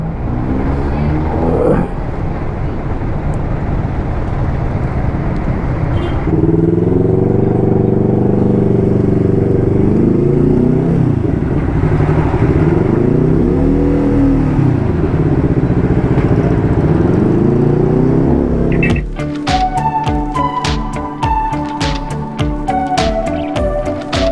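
A vehicle travels along the Malainan Luma Highway in Cavite with a steady, loud engine drone and road rumble that rises and falls in pitch, giving way near the end to sharper clattering and tonal sounds.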